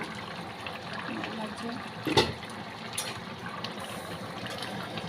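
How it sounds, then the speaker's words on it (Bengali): Running water over raw chicken being washed in a home kitchen, a steady splashing flow with a brief louder gush midway, while a person talks over it. "চিকেনটা একদম পারফেক্ট ভাবে কিন্তু ধুয়ে দেব"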